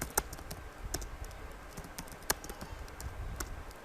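Typing on a computer keyboard while filling in a gig requirement on Fiverr, with irregular clustered key clicks at close range and no voice.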